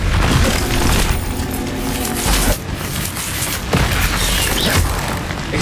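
Repeated Confringo blasting-spell explosions in a Wizarding World video game, loud booming bursts with shattering, glassy crackle recurring every second or so over dense continuous battle noise.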